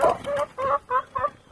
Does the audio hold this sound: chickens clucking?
yes